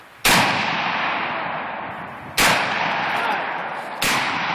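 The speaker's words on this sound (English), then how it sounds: "Josh, shoot just at the TV, but not at the top right now" Ruger Mini-14 rifle fired at an old TV set outdoors: three loud, sharp reports spaced about two seconds apart, each trailing off in a long echoing decay, with no talk between shots.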